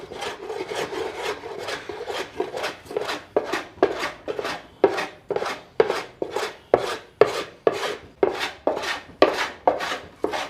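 A small manual hand plane shaves across wood diagonally to remove steps in the surface, giving a run of about seventeen crisp, rasping strokes in a steady rhythm that grows louder and more regular. Each stroke is close-up, with no talking.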